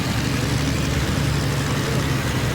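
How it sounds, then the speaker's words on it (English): Pro stock John Deere pulling tractor engine at the starting line of a 1994 tractor pull in Bowling Green, a steady loud low rumble holding on with no break for the full stretch. "our next John Deere comes to the starting line now"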